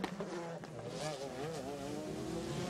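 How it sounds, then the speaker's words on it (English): Onboard the number 8 Cadillac Northstar race car in a 2002 American Le Mans Series round at Miami: the engine whines steadily close up, pitch rising and falling through gear changes, with faint background commentary. "We're on board the number 8 car, Max Anginelli, the Cadillac North Star."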